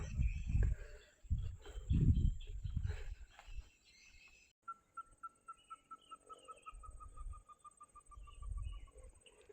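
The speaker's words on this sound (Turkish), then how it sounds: "Değişik değişik kuşların ötüşleri arkadaşlar ormanın arasında" A bird in a Borneo forest repeats a clear, evenly spaced series of high whistled notes, preceded by low rumbling noise and faint background chirps.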